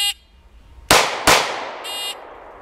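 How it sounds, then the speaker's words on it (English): A Smith & Wesson M&P Shield pistol fires two loud, sharp shots less than half a second apart, each with a short decaying tail. A short electronic timer beep comes before the shots and a longer one after them. "3-shot group."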